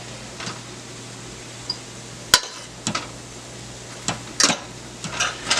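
A spoon clinks and scrapes against a pot while cabbage and carrots are stirred, with a few sharp metallic knocks and soft scraping strokes spaced irregularly over a quiet, faintly sizzling background.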